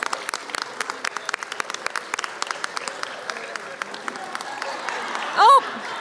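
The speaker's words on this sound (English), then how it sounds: "Okay, round of applause." A community celebration crowd claps in a steady round of applause, with crisp individual claps scattered over a soft background and a short loud whoop near the end.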